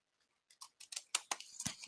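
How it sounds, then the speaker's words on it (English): Decorative craft scissors snip through paper in a quick series of about eight crisp, close cuts, each a short dry crunch with slight pauses, in an otherwise quiet room. "get our fancy scissors out"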